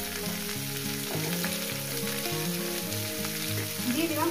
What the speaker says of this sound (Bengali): এইটা আমি ভালো করে সুন্দর করে ভেজে নেবো।